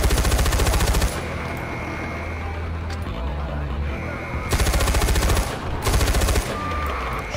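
Automatic gunfire in Far Cry 4: rapid machine-gun bursts rattle loudly in two clear volleys, separated by a stretch of lower combat noise and scattered shots.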